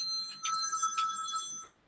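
A phone ringtone plays loud and close, a bright electronic melody of two quick pulses over a sustained tone, then stops abruptly.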